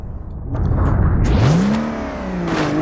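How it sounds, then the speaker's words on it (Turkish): A Lada or VAZ car in BeamNG.drive with a broken exhaust revs hard, its engine note rising in a sweeping climb and settling, loud and close, with a whooshing rasp throughout and no talking. "Ya sese bak. Egzoz bozuldu."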